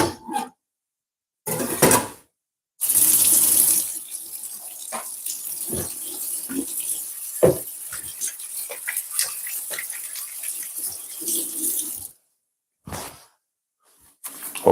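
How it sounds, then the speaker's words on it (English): Water runs steadily from a kitchen tap as hands are rinsed under it, a continuous splashing stream broken by a few knocks and clatters, with short handling noises before and after. "Just give my hand a bit of wash."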